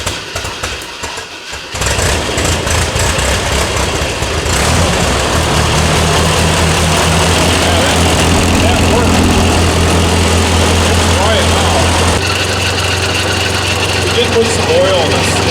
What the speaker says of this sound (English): We're gonna fire her up, see how she sounds, warm it up,